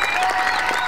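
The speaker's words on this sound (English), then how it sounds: "One final big round of applause for the Gloucester Hornpipe and Clog Society." A brief burst of loud crowd applause greets the Gloucester Hornpipe and Clog Society at the close of a folk dance performance, dense clapping with a faint tonal hum or cheer running underneath.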